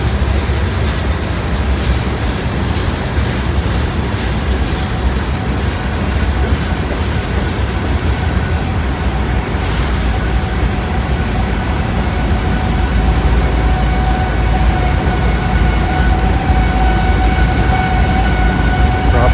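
A Norfolk Southern freight train rolls steadily past nearby, a constant loud rumble of wagons with a faint rail squeal running throughout, no voices.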